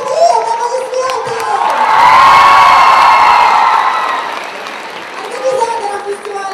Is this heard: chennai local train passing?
no